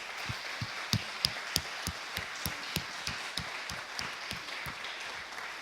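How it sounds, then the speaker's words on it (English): Audience applause for Jessie at a close-out event for the ECD Global Alliance team: a steady wash of many hands clapping, moderately distant, with a few sharper individual claps standing out, sustained throughout. "I think everyone probably would love to give Jessie a round of applause"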